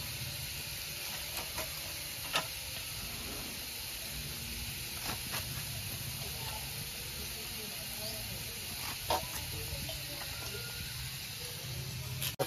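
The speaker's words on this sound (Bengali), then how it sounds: "ভালো করে ভাজা হোক।" Chopped spinach fries in a pan with a steady, continuous sizzle and hiss, close and moderately loud, dotted with occasional small pops and spatters.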